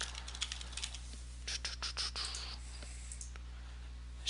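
Sparse, light key clicks from someone typing on a computer keyboard during server admin work, quiet and close against a steady low hum, with a few quicker bursts of keystrokes.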